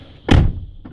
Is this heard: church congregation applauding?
no